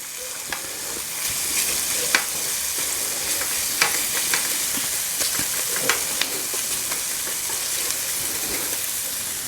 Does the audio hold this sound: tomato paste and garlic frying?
yes